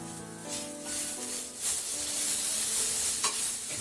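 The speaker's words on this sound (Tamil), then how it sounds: "இதையும் சேர்த்து நல்லா பச்சை வாசனை போற வரைக்கும் நம்ம வதக்கிக்க போறோம்." Softened onions fry with ginger garlic paste in a pan for mutton egg kothu parotta, making a close, steady hissing sizzle with soft stirring scrapes running underneath, and nobody speaks.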